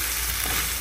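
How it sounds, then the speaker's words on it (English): Chicken pieces sautéing in a pan for a stir-fry, a dense, steady close-up sizzle of frying without pause. "just kind of sauteing those, getting those nice and brown before we proceed any further"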